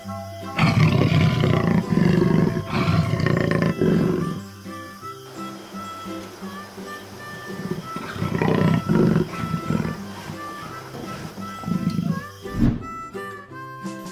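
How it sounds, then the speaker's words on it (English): A jaguar lets out deep, powerful roars in two loud bursts separated by a quieter pause, each made of repeated grunting pulses. "Jaguar."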